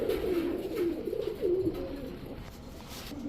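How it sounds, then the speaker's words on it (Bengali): A pair of Sapchila pigeons cooing at close range, with repeated low, throaty coos rolling over a faint ambient hiss, and no one talking. "এখন দেখাবো এক পেয়ার সাপচিলা কবুতর"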